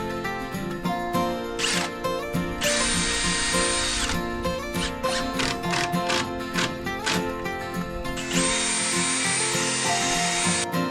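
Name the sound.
drill driving into wooden jetty slats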